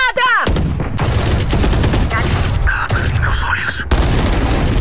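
Booming explosions and rapid gunfire roar through a Valorant match at close range, dense and loud, while players talk over the action.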